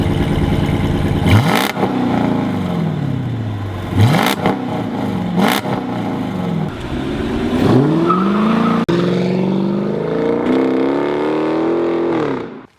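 A 2010 Dodge Charger R/T with a Corsa catback exhaust revs hard several times, each throttle blip climbing into a loud, deep roar and falling back to idle, with a final long rising pull near the end.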